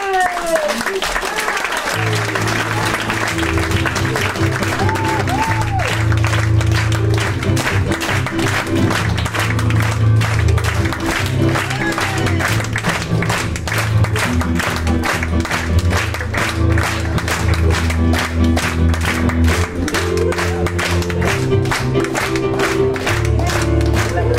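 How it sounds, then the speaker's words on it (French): Sustained audience applause fills a theatre during a comedy stage performance, loud, dense clapping with a few cheers throughout, over a steady low musical drone and some voices. "Applaudissez."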